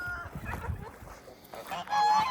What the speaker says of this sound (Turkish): Kazlar valla çabuk büyüyor ha.